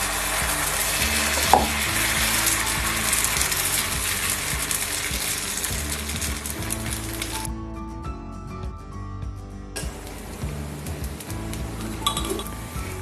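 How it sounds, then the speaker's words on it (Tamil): Dosa batter mixed with kalyana murungai leaves hisses and sizzles on a hot pan, with clinks of a ladle or utensil. The sound is close and continuous, drops away briefly near the end, then the frying resumes. "தோசை ஊற்ற ஆரம்பிச்சிடலாம்."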